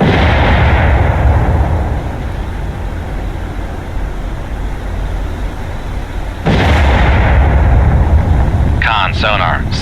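A vertical launch system missile launch from a submarine in the naval game Cold Waters: a loud, sustained rumbling roar that surges louder near the end, with brief bursts of voice chatter on top.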